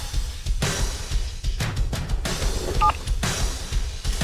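A phone signals an incoming call with a couple of brief electronic beeps partway through, set among louder rustling and bursts of background noise.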